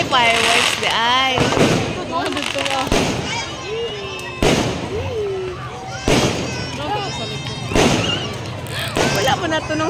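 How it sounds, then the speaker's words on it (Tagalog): Fireworks bursting at a Christmas celebration in Sarangani, with repeated sharp booming pops spaced a second or two apart under near, excited crowd talk and cheering. "May fireworks pala"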